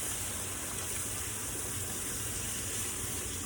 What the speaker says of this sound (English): I'm gonna pour in my hot water.